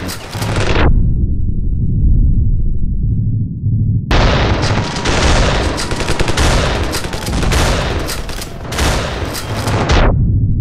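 Shotgun gunfire in Ravenfield video game: one loud blast, a low rumbling lull, then a long, dense stretch of heavy, overlapping gunfire and explosions, close and very loud.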